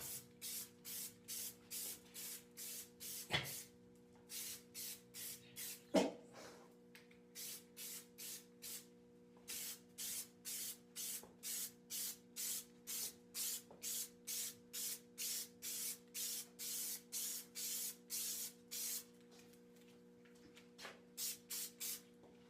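Rubber-based paint sprayed onto car door sills in a warm basement room, heard as a steady series of short aerosol bursts close by, each a sharp hiss, over a constant low electrical hum, with one or two louder clicks.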